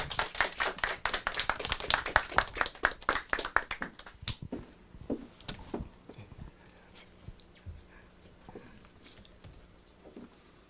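A church congregation claps to welcome missionary Choi Young-hwan, a dense burst of many hands that thins after about four seconds into scattered, fading claps across a hall.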